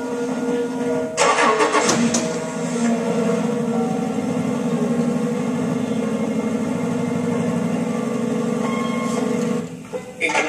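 A car engine cranks and fires into a loud, steady running rumble that holds for several seconds, heard close up.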